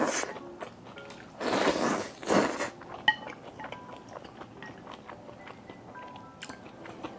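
Someone eats fried skewers and spicy cold noodles up close, with steady soft chewing and a few louder crunchy bites in the first few seconds, then quieter mouth sounds and faint utensil clinks.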